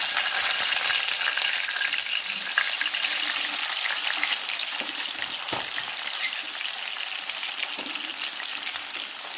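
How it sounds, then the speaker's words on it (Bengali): Boal fish pieces fry in hot oil in a wok, making a loud continuous sizzle up close that holds steady throughout, with faint occasional clinks and no talking. "তেল গরম হলে মাছগুলো ভেজে নেব। মাছ ছেড়ে দিচ্ছি।"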